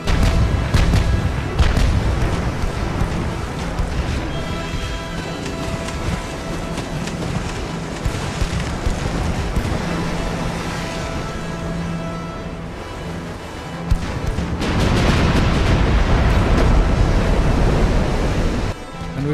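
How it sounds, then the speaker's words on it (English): A German Empire warship fires a full broadside in the naval game Ultimate Admiral Dreadnoughts, 1910 era, with heavy booming gunfire and shell impacts against a constant roaring wash of sea and engine noise, one louder surge near the end. "we got the guns on target, full broadside, everything fire"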